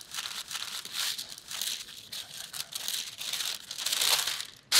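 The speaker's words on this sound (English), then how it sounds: "if you want to make your parchment fit really well, just fold it" Parchment paper is folded and creased to line a pie crust, making continuous close crinkling and crumpling with rustling swells and a sharper crackle at the end.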